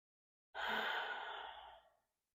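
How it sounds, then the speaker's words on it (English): One deep, slow breath taken during a yoga nidra meditation session, a soft, airy exhale-like rush lasting about a second and a half that fades gently, close and alone in silence. "We'll take a deep breath."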